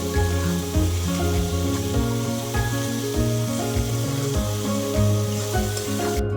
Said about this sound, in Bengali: আবার একটু নেড়ে চেড়ে দিব, কারণ মশলাটা কষানো হয়ে গেলে সুন্দর একটা সেন্ট আসবে